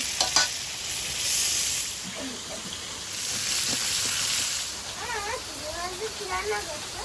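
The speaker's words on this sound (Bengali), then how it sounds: "মাছগুলো ভাজা হয়েছে" Fresh, live fish frying in oil seasoned with a pinch of salt, a steady close sizzle with stirring, joined near the end by a few rising mewing calls.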